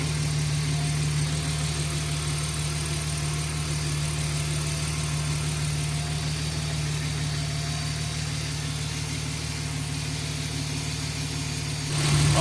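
A turbocharged BMW E46 engine idles steadily to bleed air from the cooling system, a constant low rumble with a faint hum running throughout, rising slightly at the very end.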